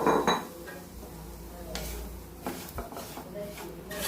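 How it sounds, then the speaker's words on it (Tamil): Semolina roasting in ghee in a kadai for rava laddu gives soft scraping and clinks of a metal spoon against the pan, quiet and irregular, with background murmur. "அந்த கடாயில் அதே நெய்யில் ரவையை போட்டு வறுத்துக்கலாம்."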